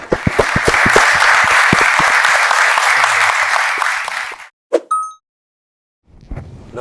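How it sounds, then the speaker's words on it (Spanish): An audience in a Q&A session applauds for about four seconds, a loud, dense burst of clapping that fades out, followed by a short beep and a brief rustle. "nos despedimos con un aplauso."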